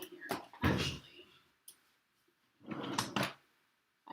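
A desk drawer slides open and shut indoors, giving two bursts of rumbling, knocking scrapes separated by a quiet pause, close and moderately loud.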